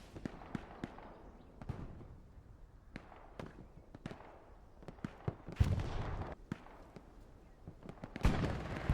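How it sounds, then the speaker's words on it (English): Repeated explosions from a bombing run in the WWII shooter Hell Let Loose, a rapid series of sharp blasts and booms, some near and loud, others farther off, scattered across the whole stretch with rumbling battlefield noise between them. "Refuze having a bombing run that's somewhat effective"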